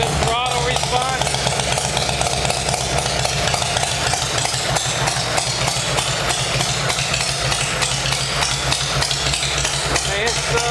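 A 1970 Harley-Davidson motorcycle engine, a rat rod build, runs steadily and loudly throughout with a dense, rapid mechanical clatter and deep low rumble, close up and continuous.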